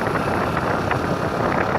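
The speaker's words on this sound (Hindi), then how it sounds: "गाड़ी का जो आवाज़ आप सुन रहे होंगे कैसा एकदम डाउन डाउन सा हो गया है" A Suzuki Access 125 scooter labours up a ghat road, its engine a steady low drone heavily blended with wind rush against the microphone, loud and unbroken.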